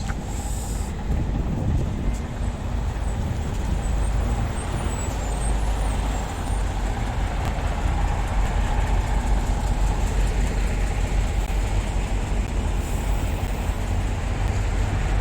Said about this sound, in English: So you can get a little bit of car noise in your ear for a minute or so.